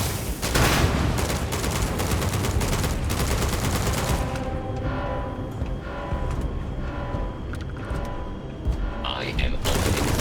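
A robot opens fire in the video game Starfield: a loud sustained barrage of rapid automatic gunfire with booming impacts over roughly four seconds, then quieter rumbling and scattered shots before the firing resumes near the end.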